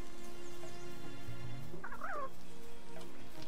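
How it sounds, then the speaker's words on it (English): Fowl call in the Palworld video game, a quiet ambient bed with one short, wavering gobble-like call in the middle and no talk. "there's chickens over here."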